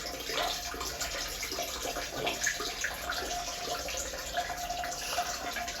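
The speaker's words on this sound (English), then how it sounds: "Now I gotta dump all this water." Faint splashing and trickling water, a steady stream poured out with small drips, quiet and continuous.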